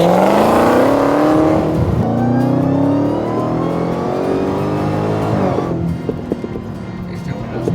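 A supercharged 1000 hp Dodge Demon 170 engine revs hard, its loud roar climbing steadily in pitch with a supercharger whine riding on top before easing off near the end.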